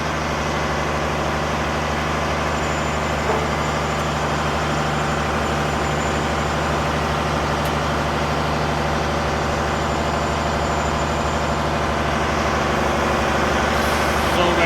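A triple road train truck tipping iron ore at a Western Australian mine rolls forward with a steady, loud diesel engine drone that holds constant throughout, with no talking.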